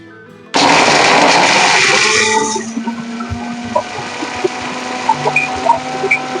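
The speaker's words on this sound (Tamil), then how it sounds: "வாங்க இப்ப நைஸா அரைச்சி எடுத்துக்கலாம்." A mixer grinder whirs loudly and steadily as it grinds dried red chillies and spices to a fine powder, running for about two seconds before winding down, leaving small clatters behind.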